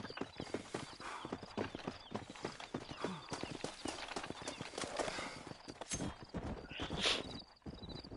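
Horse hooves in the video game Red Dead Redemption, a quick, steady clip-clop of galloping with a whinny near the end.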